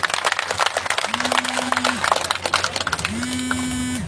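Audience applause at a retirement ceremony for a revered saint, a dense wash of clapping from a crowd lasting throughout, with a sustained tonal hum rising twice beneath it.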